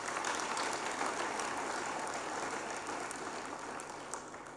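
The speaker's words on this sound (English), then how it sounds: "Can we give a round of applause?" A crowd at an entrepreneurship cohort unveiling gives a sustained round of applause, a dense steady clatter of many hands that stays even and slowly fades toward the end, with no voices over it.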